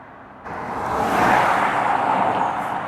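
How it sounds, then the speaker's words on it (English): A Scania six-wheeler lorry climbs a hill on the A605 with a steady broad engine roar that swells in quickly and holds loud and close for a couple of seconds. No one speaks. "we've got Hawkins Logistics coming up with a Scania 6-wheeler. Just chasing them up the hill there"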